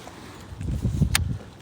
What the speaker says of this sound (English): there's that gust